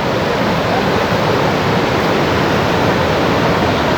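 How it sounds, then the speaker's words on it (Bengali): A waterfall near Lava and Lolegaon roars with a dense, unbroken rush of falling water, close and loud throughout, with no voices. "ঝর্ণা দেখুন,"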